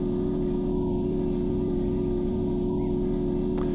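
Steady engine drone of a vehicle being driven in Empyrion Galactic Survival, a constant low hum with little change in pitch, close and unbroken.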